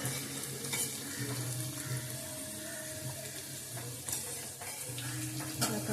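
Chicken biryani bubbling and spattering in a hot pot, a steady dense hiss with scattered pops and crackles throughout, close and fairly loud with no talking.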